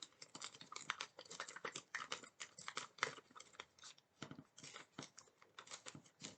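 Foundation paper is torn away from fabric along a stitched perforation line while string piecing a quilt block, making a quick run of dry, crisp ripping and crinkling bursts that stay close and steady throughout.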